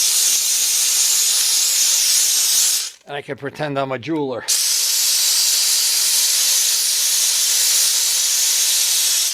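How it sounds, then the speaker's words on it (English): A Harbor Freight steam cleaner hisses loudly and steadily at close range, briefly cut off while someone speaks, then resuming its strong continuous jet of steam. "every time I'm steam cleaning something"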